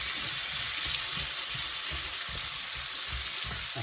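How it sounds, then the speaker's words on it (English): Onion sizzling steadily in a hot oiled pan, with the soft scrape of stirring recurring every half second or so, close and continuous with no talking. "now we'll just stir this round for a couple of minutes. Just soften the onion a little more than anything"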